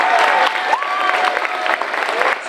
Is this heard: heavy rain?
no